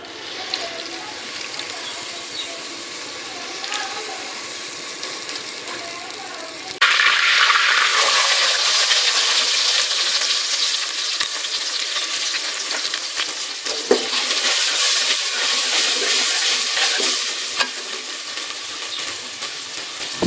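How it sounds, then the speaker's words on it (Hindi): Onions browning in hot cooking oil in a pot on a stove, a steady frying hiss that swells sharply partway through into a louder, denser sizzle. "अब इसमें कुकिंग ऑयल डालते हैं और ऑयल गर्म करके फिर उसमें प्याज को ब्राउन करते हैं"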